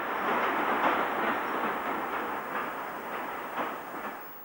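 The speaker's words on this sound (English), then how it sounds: "This train has collected 2 loaded milk tanks from the Cow and Gate factory at Wincanton." A train hauling two loaded milk tank wagons on the Somerset and Dorset line passes close by, giving a steady broadband rumble of wheels and wagons with no clear individual beats.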